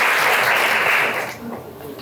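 A school audience applauds with loud dense clapping that fades out partway through, followed by faint voices.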